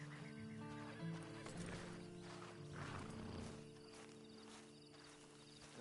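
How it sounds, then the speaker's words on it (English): A horse whinnies over hoof clops in the Red Dead Redemption 2 online beta, set against a layered game soundscape with a steady background hum; the animal sounds are fairly prominent. "And you better get on this horse."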